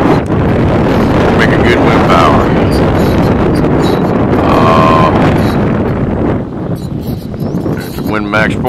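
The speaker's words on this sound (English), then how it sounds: "wind is kicking today" Strong wind gusts roar across an outdoor rooftop with a small wind turbine, a steady broadband rush that stays loud and close throughout.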